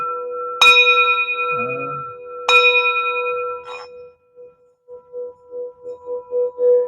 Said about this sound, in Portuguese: Isso é um sino de tigela